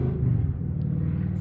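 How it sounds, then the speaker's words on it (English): Low, steady rumble of road traffic heard from a distance, a continuous engine drone without distinct passing cars. "I'm sorry if you can hear the traffic outside."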